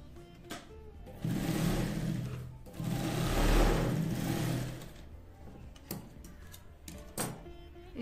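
A sewing machine runs in bursts, stitching along the second side of a fabric utility bag, with a steady mechanical whir that starts and stops between pauses, close and fairly loud.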